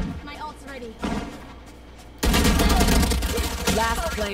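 Gunfire in the video game Valorant, starting with scattered shots and then turning into a loud, sustained barrage partway through, with a voice talking over it.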